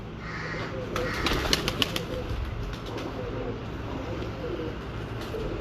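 Sialkoti pigeons coo softly in a loft, a few low throaty calls rising over steady background noise, with human voices murmuring faintly nearby.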